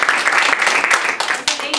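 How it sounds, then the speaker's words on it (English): An audience gives a round of applause for a teacher, a close, loud wash of many hands clapping continuously with faint voices mixed in. "So I just want to give a round of applause to the credit recovery teacher."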